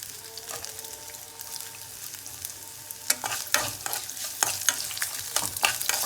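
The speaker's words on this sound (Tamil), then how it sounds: "நல்லா வதக்கின்றிருக்கோம் இஞ்சியை." Grated ginger and coconut are stir-fried in a pan with a spatula. A low sizzle runs throughout, and the scraping strokes grow louder and more frequent in the second half.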